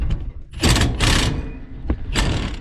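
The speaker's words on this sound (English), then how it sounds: "I'll rattle all them off now" A spanner rattles nuts off a bolted assembly on a farm in a few short, loud ratcheting bursts with quiet gaps between them.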